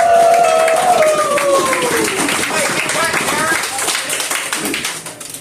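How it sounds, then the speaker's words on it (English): Audience applause and cheering for a comedian being introduced at a Mansfield comedy show, a loud sustained burst of clapping over crowd noise and a lingering musical tone that slowly thins out. "I need a big Mansfield round of applause for Terrence "The"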